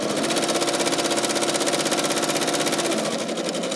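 A sewing machine runs at a fast, even, rapid-fire stitching rhythm while sewing the corners of a fabric coaster, loud and close, then slows slightly at the end.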